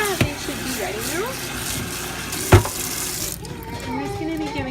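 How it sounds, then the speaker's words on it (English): Soaking liquid from vegan soup ingredients drains steadily down a kitchen sink, a continuous watery rush with a couple of sharp clunks partway through. "until that liquid that's just going into the soup goes down the drain"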